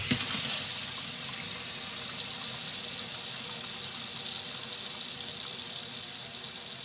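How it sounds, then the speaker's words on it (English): Water pours steadily from an open household faucet as a second-floor supply drains down by gravity after the main shut-off valve has closed, a continuous close hiss with a brief stronger gush at the start. "all the water from the second floor is using gravity to drain down through this faucet"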